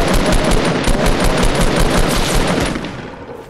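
Rapid bursts of loud gunfire from a Fortnite match, with a sniper in play, crack out in dense repeated volleys close by, trailing off slightly at the end.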